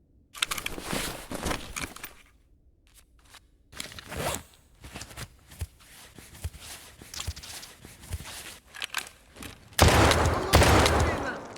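Sharp gunshots in Escape from Tarkov during a PvP fight, scattered single cracks and short bursts between quieter gear rustles and footsteps, ending in a loud close volley.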